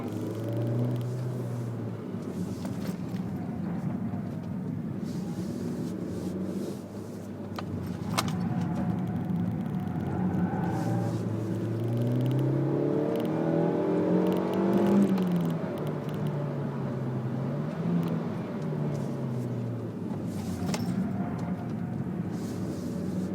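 Suzuki Swift Sport engine driven briskly on an open public road, heard from inside the cabin: a steady loud drone with rising and falling revs as it accelerates and shifts, continuous throughout with no talk.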